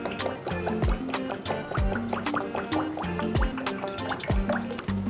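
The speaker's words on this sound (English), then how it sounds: "I'm pouring in my oil" Cooking oil poured into a hot pot, giving close, continuous liquid pouring and dripping sounds with repeated small splashes and no talk.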